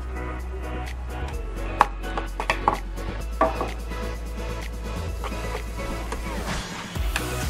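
A Jaguar 087 DW three-thread overlock sewing machine runs with a steady, continuous low hum and mechanical whir, punctuated by sharp clicks and knocks, fairly loud and close, with a brief dip near the end.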